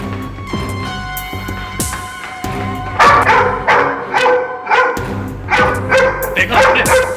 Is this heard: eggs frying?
no